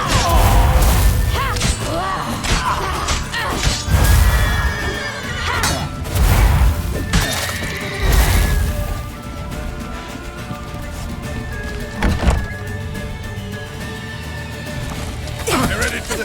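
A horse in the video game The Witcher 3 neighs and whinnies several times amid thuds and crashes, with shouting voices over parts of it.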